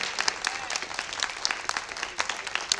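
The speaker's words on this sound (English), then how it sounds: "Please give them another round of applause." Audience applause at an honor society induction ceremony: dense, sustained clapping from a crowd in a hall, loud and continuous, with some faint voices mixed in.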